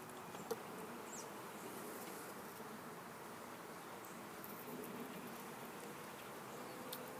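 Honey bees in a top bar beehive give off a steady, dense buzz with no pause, quiet and close all the way through, and no one speaks.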